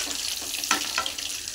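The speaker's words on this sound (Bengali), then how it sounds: "আর যে কটা মাথা আছে আমি একইভাবে সবগুলোকে ভেজে নেব।" Fish heads fry in a pan of oil with a dense, continuous sizzle that stays close and steady, topped by a few brighter crackles and spits.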